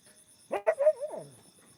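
A dog at a shepherd's camp gives a short burst of barks at a plastic bag caught in a tree, trailing into a drawn-out howling whine, fairly close, against a quiet background with faint insect chirps.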